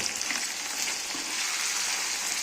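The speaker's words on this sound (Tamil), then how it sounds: "நல்லா எண்ணெயிலே ஃப்ரை ஆகணுங்க" Chicken liver fries in oil with onions, giving a dense, even sizzle that holds steady and close for the whole stretch, with faint stirring underneath.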